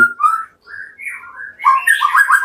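A caged murai batu, or white-rumped shama, sings nearby in clear whistled notes, a few sliding phrases and then a busier burst of chirps with brief pauses between.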